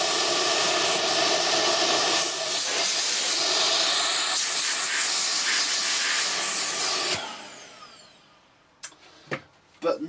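A Beko VRT6221P vacuum cleaner runs with a loud, steady hissing roar, then shuts off and winds down. A few faint knocks and handling clicks follow in the quiet.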